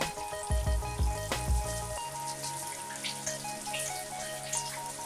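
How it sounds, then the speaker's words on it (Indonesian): Steady sizzling and crackling of chicken pieces deep-frying in hot oil, with a few low thuds and clatters at the start. "segera goreng di minyak panas"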